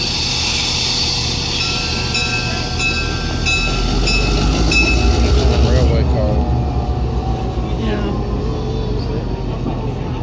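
A 120-ton steam locomotive on an 80-foot, 80-ton railroad turntable at the Chattanooga depot rumbles steadily, with deep low machinery noise, metallic ringing tones and a brief screech near the end, heard under background talk.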